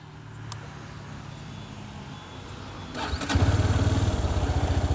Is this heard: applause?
no